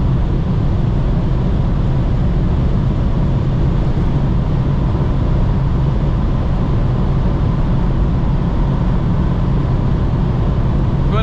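A Mercedes C30 CDI AMG diesel sedan cruising at about 250 km/h, heard from inside as a loud, constant roar of engine, wind and road noise with no change in pitch, no voices.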